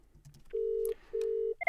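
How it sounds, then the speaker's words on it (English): Ringback on a VoIP call: two long, even tone bursts with a short gap between them, close and clear with no talking, then the start of another signal. "You hear the phone ringing."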